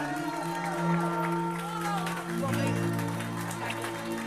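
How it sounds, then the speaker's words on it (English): Audience clapping and some cheering fill a hall after a singer performs, a steady wash of applause under a sustained tone, with voices faintly mixed in. "Give Sue a big round of applause, ladies and gentlemen."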